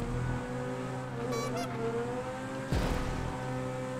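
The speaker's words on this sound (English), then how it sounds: "This car sounds amazing." A race car's engine revs in the video game GTA V during a stunt race, giving a fairly quiet, steady droning whine with shifting pitch that is broken by a brief harsh burst of noise near the end.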